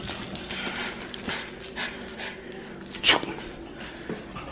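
An exotic bully dog pants after playing fetch, with quick breathy huffs close by, a sharp snort partway through, and a person talking over it.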